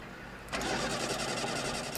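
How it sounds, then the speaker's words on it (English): A hotwired car engine in the Life Is Strange video game cranks and catches abruptly about halfway in, then settles into a steady loud idle rumble, close up and with no talking. "You're gonna hotwire the car?"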